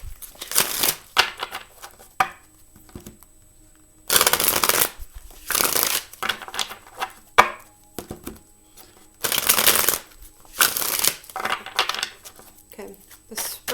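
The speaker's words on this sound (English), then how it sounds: "Let me give these some refresh shuffles." A deck of tarot cards is shuffled up close in several rapid riffling bursts, each a second or so long, separated by short pauses and softer handling rustles.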